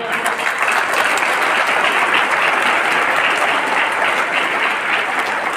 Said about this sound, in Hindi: सलमान सर के बाद तो कोई जोरदार तालियां नहीं हुआ है।